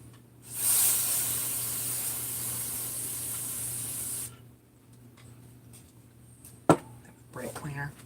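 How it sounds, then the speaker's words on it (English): Brake cleaner sprayed onto a bare-metal engine crankcase during assembly, a loud steady hiss lasting about four seconds that cuts off sharply, followed by a sharp clank and faint handling noises. "Brake cleaner."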